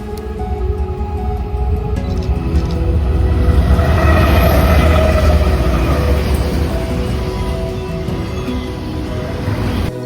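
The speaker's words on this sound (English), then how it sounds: "another lackluster westbound grain train" A westbound grain train rumbles past at close range, a loud, continuous low roar of rolling freight cars that swells to a peak and stays heavy throughout.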